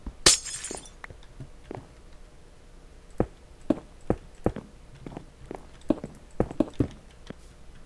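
Glass shatters in the Vulengate building game, a bright crash at the start followed by a scattered series of sharp clinks and taps spread over several seconds, fairly quiet and with no voices.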